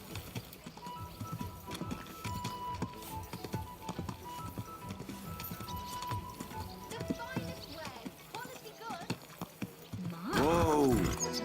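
Rhythmic video game hoofbeats clop along under ongoing talk and background music in Kingdom Come: Deliverance II, ending with a loud horse whinny near the end.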